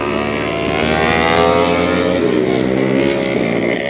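Several motorcycles, a Yamaha R3 sports bike and Yamaha Sniper bikes, pass on a mountain road, their engines a loud, steady harmonic drone that swells gently for nearly four seconds with no talk.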